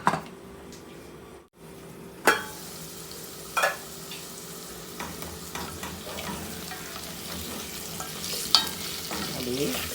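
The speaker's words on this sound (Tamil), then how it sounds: "இப்போ இப்படி அப்பப்போ நீங்கள் கிளறி விட்டுக்கிட்டே இருக்கணும்" Small baby potatoes fry in a pan with a steady sizzle, broken by a few sharp scraping stirs of a spoon against the pan.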